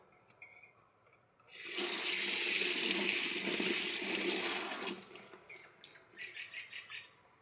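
Water poured into a pot to wash ivy gourd leaves: a loud, steady rush of running water for a few seconds, followed by lighter splashing and swishing as the leaves are rinsed.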